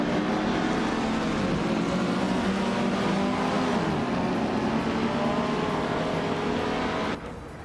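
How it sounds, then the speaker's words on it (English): Vintage Trans Am race cars, including a classic 1967 Mercury Cougar, roar off the pole in a video game race, a loud continuous engine drone with rising revs that cuts off near the end. "the vintage Trans Am cars are taking off from the pole with Lamborghini tube behind the wheel of a classic 1967 Mercury Cougar"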